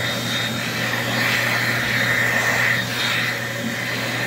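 An Excel Xlerator hand dryer from 2009 or 2010, fitted with a .8 nozzle, runs in a restroom at Tanger Outlets in Deer Park, New York, blowing with a steady, loud, airy roar throughout.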